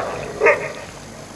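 A single short dog bark, moderately loud and close, rising briefly out of a dull, steady background hum.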